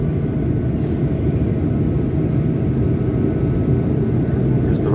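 Airplane taking off from Innsbruck Airport in Austria, a loud, steady engine roar that holds at full power without a break, heard up close from inside the aircraft.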